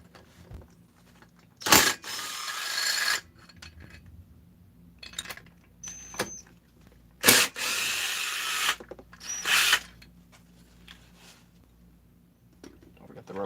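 A ratchet works head bolts loose on a saw in a workshop, giving a few short, sharp bursts of clicking and grinding separated by quiet gaps.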